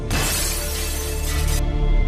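A phone smashed hard against a floor, a loud sustained shattering crash lasting about two seconds with no talking.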